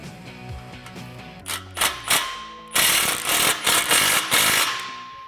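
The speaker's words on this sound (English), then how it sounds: "grab your 15mm socket and tighten it down" A ratchet with a 15mm socket tightens an exhaust clamp bolt on a 2018-2019 Mustang GT Roush cat-back exhaust, a series of close, short rasping clicking bursts in quick succession after a few quieter clunks.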